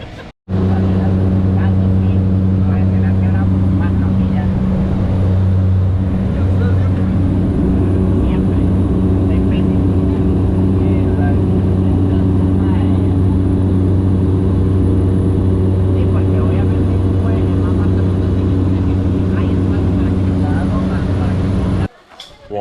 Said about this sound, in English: Look at this tiny plane.